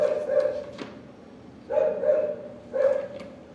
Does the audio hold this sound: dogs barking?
yes